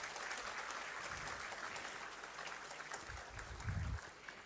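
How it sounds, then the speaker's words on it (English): Steady applause from an award ceremony crowd fills the space, a dense wash of clapping that holds at an even level throughout. "Can we have a huge round of applause for that?"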